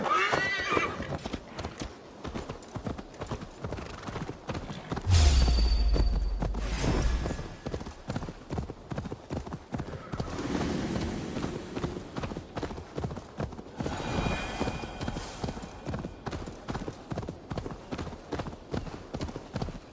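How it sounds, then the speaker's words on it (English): A horse in the Assassin's Creed Valhalla video game clops steadily across ground for the whole stretch, letting out a loud whinny midway and another fainter neigh later, with no voices. "That darn horse."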